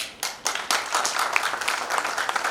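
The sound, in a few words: audience applause for Manoj Tyagi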